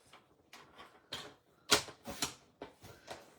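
A blade trims cardstock along a score line at a crafting table: a faint, close series of short crisp cuts and snips, irregular in rhythm, with one louder rasping cut in the middle.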